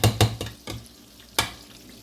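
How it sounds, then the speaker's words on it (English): A spoon scrapes a cheesy sauce around a pan over the heat in a few quick, close strokes, then one more after a pause, over a soft sizzle. "Let me just stir this a little more."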